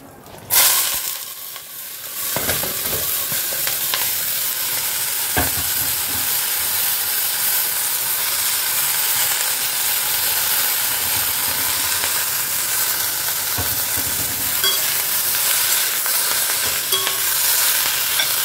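Cut potatoes frying in oil in a covered pan, giving a loud, continuous broadband sizzle that holds steady throughout, with a few faint knocks and no talking.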